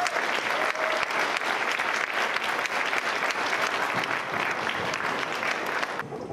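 A lecture audience applauds steadily to welcome Dr. Terry Shintani, a dense, loud wash of clapping that holds for several seconds and then tapers slightly at the end.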